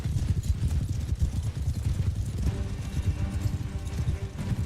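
Rapid, dense hoofbeats of several horses galloping in Mount & Blade II: Bannerlord, a constant rumbling clatter with no pauses.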